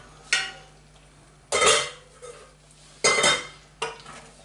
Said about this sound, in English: Give that a little stir through.